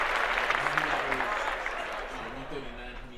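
Applause sound effect played on a sports podcast, a steady broadband clatter of clapping that fades slightly over about three seconds, with voices talking underneath.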